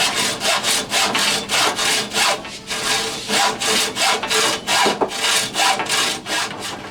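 A rail of a backyard railroad being cut by hand, the tool scraping back and forth in quick, even rhythmic strokes, close and fairly loud with no talk.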